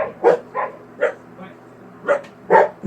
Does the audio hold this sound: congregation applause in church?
no